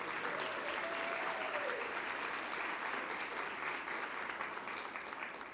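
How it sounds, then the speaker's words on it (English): An audience applauds steadily throughout at an education award announcement, a dense wash of clapping that fades slightly at the end, with no one speaking. "Let's give them a round of applause."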